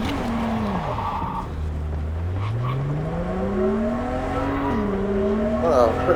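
Car in Cyberpunk 2077 revving and sliding with tire squeal, engine pitch dipping and climbing over several seconds, a loud near drone with a brief scrape near the end.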